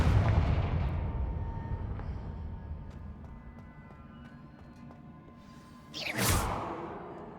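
A Confringo spell goes off in the video game Hogwarts Legacy, opening with a loud blast that rumbles and fades over several seconds, then a second sharp whooshing burst near the end.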